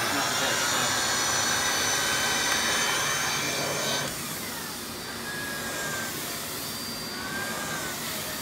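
A Miele Blizzard vacuum cleaner runs on carpet with a steady, rushing whine throughout, close and continuous, easing slightly in loudness partway through as the floor head moves.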